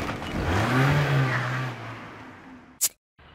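Car engine starting and accelerating, a rising mid-pitched engine rev that swells then fades away, ending with a sharp click and a sudden cut to silence.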